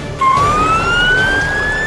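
An ambulance siren sounds close and loud, a single rising wail sweeping steadily upward after a short lead-in, heard at a rescue scene with a crane truck.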